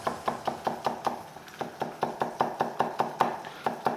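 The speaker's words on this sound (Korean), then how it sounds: "고등어랑 같이 곁들여서 먹을 수 있게 칼집만." A knife chops steadily on a cutting board while scoring mackerel for a dish with green onion, about three crisp strikes per second, close and clear with no talk.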